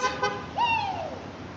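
A single car horn toots, a steady nasal tone that briefly overlaps a falling whistle-like note, with traffic rumble underneath.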